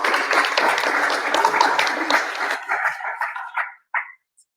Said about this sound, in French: on leur dit merci et on les applaudit